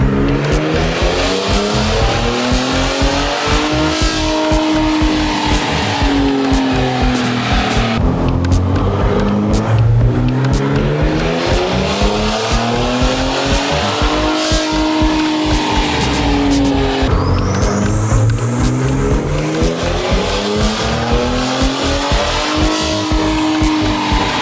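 A 2021 Ford Raptor with the 3.5L EcoBoost engine on a dyno, revving through repeated pulls with rising and falling engine tone, loud and continuous with no talk.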